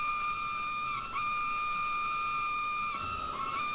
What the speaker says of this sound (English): that one engine's whistle is just buried in coal